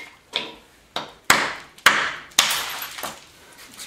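Flint struck with an antler or hammer during bipolar knapping gives five sharp, loud cracks spaced about half a second apart, each with a brief ringing, gritty decay.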